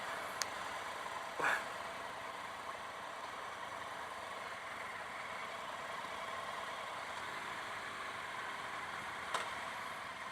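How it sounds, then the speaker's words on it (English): A Triumph Tiger 800 XCx motorcycle engine idles quietly and steadily, a low smooth hum with a few faint clicks, no voices. "Pretty quiet engine."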